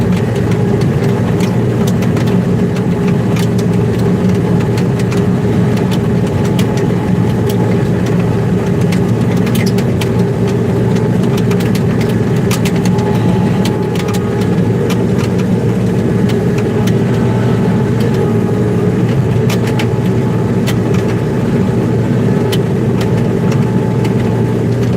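The diesel engine of a farm service truck with a big fuel tank on the back idles steadily at a harvest field, a loud, unbroken low rumble with an even mechanical drone and no talking.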